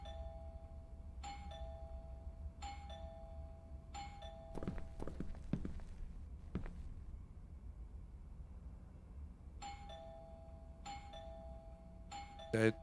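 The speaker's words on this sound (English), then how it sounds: "I should just ring the doorbell, see if he answers." A doorbell rings in the video game Within, a bright chime repeating every second or so in two bursts of several rings, separated by a quieter stretch with a few soft footstep-like knocks over a low background hum.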